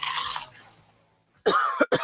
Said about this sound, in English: I can't sleep with this cough